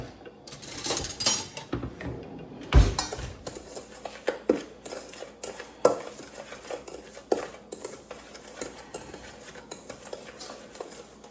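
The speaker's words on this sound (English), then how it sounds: "Let's stir it up." A spoon stirs a dry seasoning mix with pepper in a bowl, giving sharp clinks and scraping taps against the sides in an irregular rhythm, close and fairly clear, with quieter stirring between the louder knocks.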